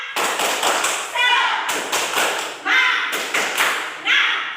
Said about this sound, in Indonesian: Berdiri semuanya, kita tepuk semangat.